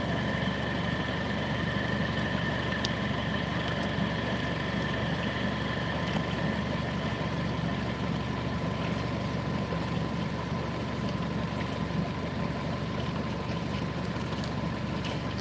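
A car engine idles steadily while its cooling system is flushed with the radiator fans running, a constant low hum and drone that stays even and unbroken throughout.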